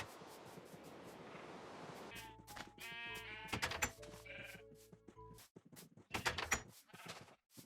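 Sheep in the Minecraft video game bleat several times in a row, fairly loud and close, with game sounds and clicks between the calls and no talk.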